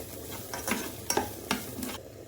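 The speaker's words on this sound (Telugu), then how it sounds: "ఇప్పుడు వీటన్నింటినీ బాగా ఫ్రై చేసుకోవాలి" Coriander and mint frying in a pan with stirring, a soft steady sizzle under several distinct scraping strokes of a utensil, close and fairly quiet.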